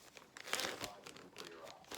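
Plastic freezer bag crinkling and rustling as air is pressed out during crockpot meal prep, a few close, brief crackly bursts over about two seconds.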